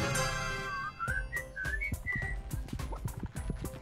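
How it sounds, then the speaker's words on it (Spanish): Darryl, a character in the video game Brawl Stars, whistles a short, rising-and-falling tune up close, with a few sharp game hits and thumps breaking in as the melody ends. "¿Cómo silba el puto Darry?"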